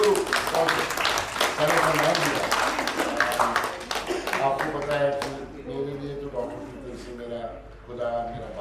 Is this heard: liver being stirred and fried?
no